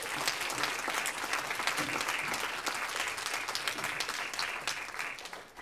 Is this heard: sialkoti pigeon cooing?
no